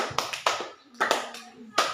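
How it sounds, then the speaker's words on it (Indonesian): A few hands clap in a classroom lesson, scattered sharp claps in short bursts with gaps between them, close and moderately loud. "tepuk tangan"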